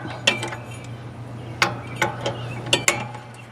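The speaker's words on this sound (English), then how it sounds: "It takes a 3/8 inch ratchet." A 3/8 inch ratchet works on the belt pulley of a Kubota Z725 mower, giving several sharp metallic clicks and clanks spaced irregularly over a steady low hum, close up and fairly loud.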